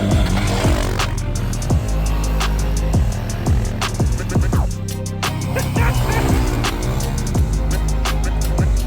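A Yamaha XT250 dual-sport motorcycle engine runs loud and close, its single-cylinder note rising and falling in repeated revs and gear changes with a buzzing, throbbing exhaust throughout.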